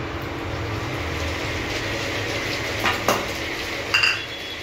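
Spiced chicken curry gravy being stirred in a pan, Bengali style, with a steady frying hiss and a few metal scrapes and clinks of the spoon against the pan near the end.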